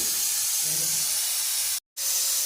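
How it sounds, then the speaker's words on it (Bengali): A pressure cooker boiling lentils lets out a loud, steady hiss of escaping steam up close, cutting off abruptly for a brief moment before resuming at full strength. "এখানে প্রেসারে ডাল সিদ্ধ করে দিয়েছি।"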